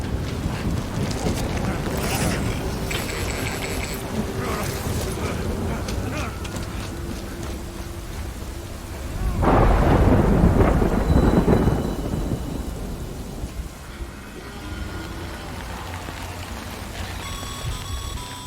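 Steady rain patters and wind buffets in the video game Death Stranding, then a deep, loud thunder roll builds midway and fades back into the rain.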